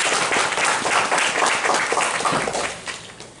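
A church congregation at a military mission worship service bursts into dense, continuous applause that holds strongly, then tapers off toward the end.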